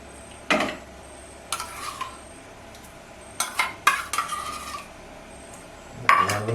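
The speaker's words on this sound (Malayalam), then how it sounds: "നന്നായിട്ട് ഇളക്കി കൊടുക്കുക." A homemade papaya soap mixture is stirred in a pot with a utensil, producing intermittent scraping and clinking strokes in short bursts separated by quiet pauses, close and fairly loud.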